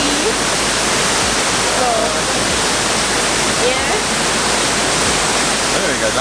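Reach Falls waterfall in Jamaica, a steady broadband rush of falling water filling the whole scene, loud and continuous, with a brief voice speaking over it.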